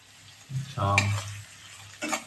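Onions frying in a pan for chicken handi, with stirring scrapes and a soft sizzle; a louder burst of stirring in the middle, then quieter frying and another short scrape near the end.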